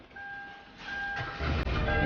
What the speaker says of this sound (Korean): 시동 걸리고요.